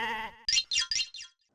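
A goat dragged into a police post bleats in four quick, nasal cries in a row, close and fairly loud, right after a brief stretch of voice.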